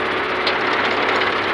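A large John Deere 2130 tractor engine runs a maize silage cutter at a steady, loud drone with a slight rhythmic flutter, close by and without talk.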